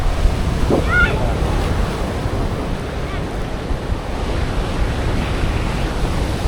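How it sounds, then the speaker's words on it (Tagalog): Heavy surf crashes and rolls continuously on Ba Tonying Beach, Northern Samar, Philippines, with strong wind rumbling across the microphone and a voice briefly audible underneath. "Yung malakas ang alon dito banda."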